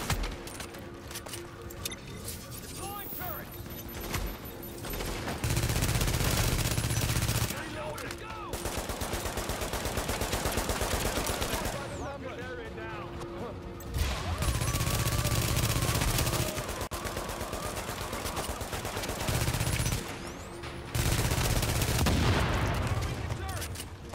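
Automatic weapons fire in the video game Tom Clancy's The Division comes in long, sustained bursts that rattle for several seconds at a time. Short pauses break it up, and a voice talks faintly at times.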